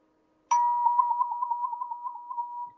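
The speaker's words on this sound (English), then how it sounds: "Or I've got my wah tube." A wah tube sounded once with a sharp struck onset, followed by a sustained mid-pitched tone that wobbles in a rapid, even pulsing pattern for about two seconds before fading, close and alone.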